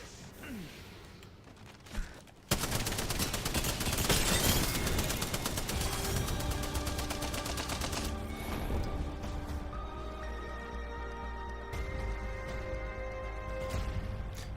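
Sustained automatic gunfire in the video game Apex Legends during a ranked match, a sudden loud fusillade that breaks in after a quiet start and keeps rattling steadily, mixed with game effects and ringing tones.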